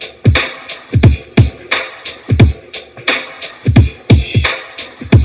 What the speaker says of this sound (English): the additional hi-hats, the drum loop by itself, it sounds like this.